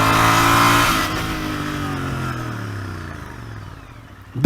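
A Royal Enfield Interceptor 650 motorcycle brakes hard on tarmac. Its close, loud engine note winds steadily down in pitch as the bike slows, ending with a short bump at the finish.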